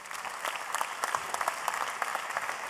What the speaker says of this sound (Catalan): Aplaudiment per ell.